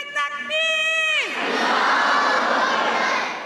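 A large crowd at a gathering answers a religious slogan, following a single voice's call with a loud, sustained mass shout that swells and slowly fades.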